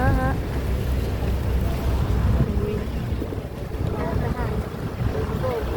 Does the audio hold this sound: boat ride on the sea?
yes